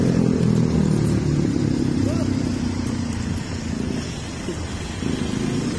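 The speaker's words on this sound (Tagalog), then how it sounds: "Ingay naman ang motor na yan." A noisy motorcycle engine rumbles past on a busy Makati city street, a loud continuous drone and clatter that eases slightly midway, with people talking nearby.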